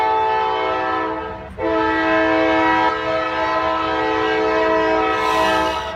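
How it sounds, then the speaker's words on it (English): A train passing close with its horn blowing loud and sustained, the chord breaking briefly once before resuming, with rail rumble underneath and no talk. "right away the train goes."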